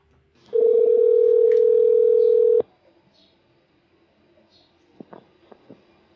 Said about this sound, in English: Okay, here goes. Dialing Paul Shippee